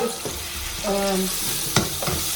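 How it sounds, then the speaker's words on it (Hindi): Onions with ginger, garlic and chili paste sizzle steadily in a pan for chicken biryani, while a utensil stirs and scrapes through them in a few distinct strokes, close and moderately loud, with no talking. "तो इस पॉइंट पे मैंने इसमें ginger, garlic and chilli paste add कर दिया है. इसको अच्छे से मिक्स कर लें."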